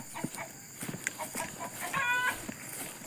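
Chickens clucking as they are herded into a coop at a garden farm, a close run of short clucks and squawks with one brief higher call partway through.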